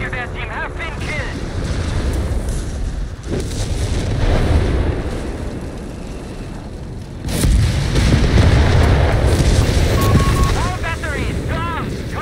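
Artillery fire and explosions rumble and boom through a Company of Heroes 3 battle with the Afrika Korps, heavy low blasts rolling in bursts while radio-style unit voices and chirps sound over them.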